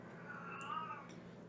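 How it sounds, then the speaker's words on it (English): A male cat meowing for a female cat, one drawn-out faint call indoors, with quiet background noise and no speech. "He's calling for my girl cat."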